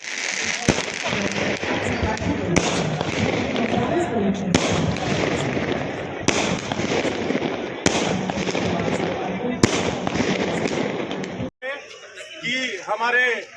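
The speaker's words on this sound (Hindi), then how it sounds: "ये नज़ारे जो ऊपर जाकर के आतिशबाजी आपको दिखाई दे रही है" Fireworks burst and crackle repeatedly over a festive outdoor crowd at a tourist site in Bundi, loud, dense and continuous for most of the stretch, with sharp pops recurring every couple of seconds before a brief quieter tail with a few whistling streaks.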